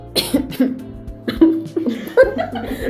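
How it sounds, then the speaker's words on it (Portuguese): Several short coughs break up a casual Portuguese-language podcast conversation, sounding close and loud, with voiced, laugh-like bursts in between. "Tosse."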